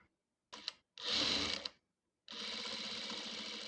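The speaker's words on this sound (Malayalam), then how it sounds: "പിന്നെ ഇവിടെ ഒന്ന് തയ്ക്കാം" Sewing machine stitching chudithar fabric in short bursts: a brief rattle, a longer run, a pause, then a sustained steady stitching whir, close by with no talking.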